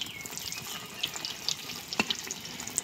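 Battered egg beguni fritters fry in hot oil over a village kitchen fire, giving a steady bright sizzle scattered with sharp pops and crackles, close and continuous with no talking.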